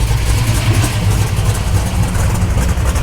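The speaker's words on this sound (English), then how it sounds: "Very throaty. It does have aftermarket exhaust." A 1965 Dodge Coronet with aftermarket exhaust idles with a deep, throaty, steady rumble, loud and close, no voices.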